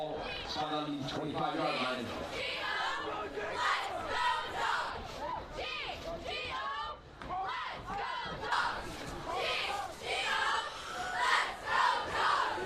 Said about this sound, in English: And an excited crowd here on the top of the hill under the glow.